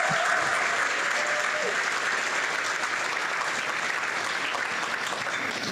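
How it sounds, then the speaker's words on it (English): Sustained applause from a luncheon audience, a steady dense wash of clapping that holds at an even level for several seconds, with a faint voice briefly audible early on. "Give yourselves a round of applause."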